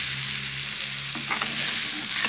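Homemade banana pastry fries in a little oil in a pan, a loud continuous sizzle and crackle with a few brief scraping stirs near the end.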